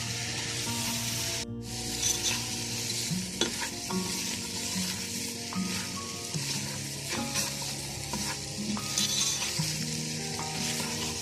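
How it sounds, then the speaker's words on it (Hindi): Macaroni is stirred in a pan with vinegar and soy sauce, a steady close sizzle and frying crackle with repeated scraping strokes and light utensil taps against the pan. "अब ये सिरका डाल देंगे और ये सोया सॉस, इसको मिक्स करेंगे अच्छी तरह।"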